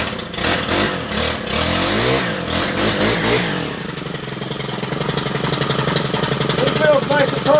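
A STIHL FS 111 RX brushcutter engine runs close by, loud and steady with revving surges, a rougher choppy stretch in the first few seconds settling into a sustained drone.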